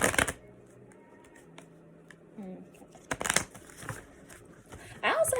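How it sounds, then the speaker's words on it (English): Tarot cards being shuffled by hand, with brief crisp riffles and flutters between quiet pauses, close by, mixed with soft handling noises and a little talk. "I also had like a really hard time shuffling the cards for you guys"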